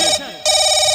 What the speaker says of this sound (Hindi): मैं कहता हूँ फोन उठा